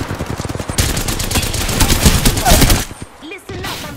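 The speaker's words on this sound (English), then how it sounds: "I'm getting shot." Gunfire in the Apex Legends video game: rapid automatic bursts that build into a dense, loud volley of shots, then fade under brief noise.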